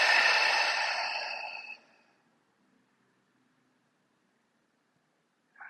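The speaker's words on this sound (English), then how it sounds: "Whenever you're ready, an open mouth exhale." A long, breathy open-mouth exhale during a vinyasa yoga practice, close and fairly loud at first and then fading away over about two seconds into near silence.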